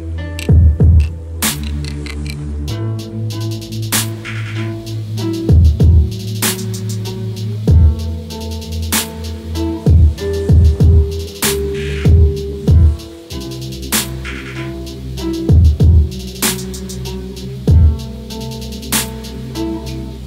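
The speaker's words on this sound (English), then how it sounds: "I'll let you hear the transition from the main region to the counter melody region" A trippy, chill guitar beat made in FL Studio moves from its main section into a counter melody, with steady punchy drum hits under layered guitar tones and no voices.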